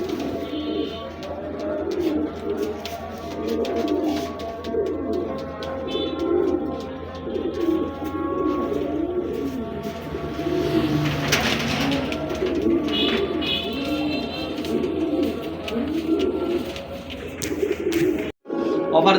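Pigeons coo repeatedly in a steady, rhythmic chorus, including a young female bird among those kept for sale, close and continuous with soft background noise throughout.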